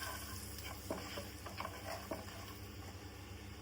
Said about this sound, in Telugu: కారం వేసాక కారం మాడకుండా కొద్దిగా అలా తిప్పేసుకొని